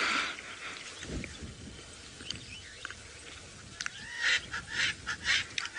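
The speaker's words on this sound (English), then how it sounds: "It's the Franklins you can hear shouting again behind us." Swainson's or Natal francolins call on a sunset safari drive, harsh honking, cackling bursts rising toward the end, moderately distant over a quiet bush background.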